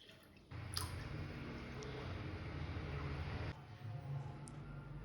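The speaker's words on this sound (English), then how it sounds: "Put a vessel, add 2 cups of thick milk" Thick milk pours into a cooking vessel for cinnamon tea, a soft, steady rushing stream lasting about three seconds before stopping abruptly, quiet and close with no talk.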